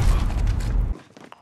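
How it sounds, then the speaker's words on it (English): Mechanical weapon reload in Modern Warfare multiplayer, a brief clattering, creaking rattle of metal parts that is loud at first and then drops off into a few faint clicks. "Reloading."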